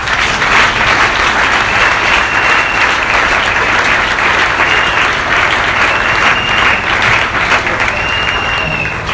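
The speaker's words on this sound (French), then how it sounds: "Est-ce que nous pouvons acclamer le Seigneur?" A church congregation bursts into loud, sustained applause acclaiming the Lord, steady dense clapping for about nine seconds with faint voices mixed in.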